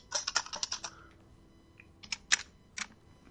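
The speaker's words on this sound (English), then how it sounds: "This is a gaming keyboard, and listen to this." Someone types on a mechanical gaming keyboard up close in two short bursts of sharp, clicky keystrokes, with a brief pause between them and no talking.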